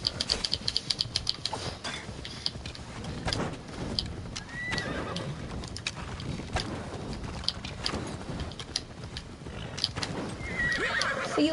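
Horse whinnying with clip-clopping hooves in the Assassin's Creed video game, over a steady bed of outdoor ambience and water; the hoofbeats run throughout and the neighs come out clearly in the middle and near the end.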